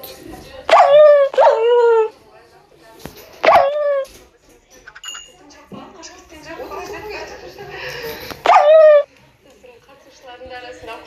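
Dogs in a rural Kazakh setting bark in short bursts of sharp, yelping barks, a few spaced volleys close by with quiet gaps between, and a little background voice activity.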